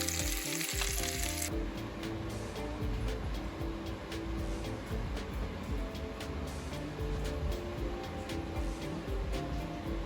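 Food frying in a pan for carnivore meal prep, a loud, dense, continuous sizzle with occasional light utensil ticks as items are moved around, no talk.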